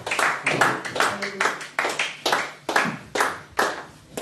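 Rhythmic clapping from a church congregation at a Sunday service, roughly ten sharp bursts spaced evenly in a steady beat, close and fairly loud.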